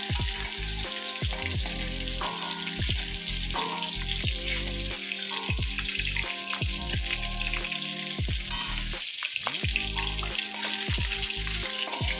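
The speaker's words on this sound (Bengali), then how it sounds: "মাছটাকে একটু হালকা করে ভেজে নেব, ডিমওয়ালা মাছ।" Roe-filled singhi catfish frying lightly in oil in a pan, a loud continuous sizzle and crackle with bursts of popping, close by and steady throughout.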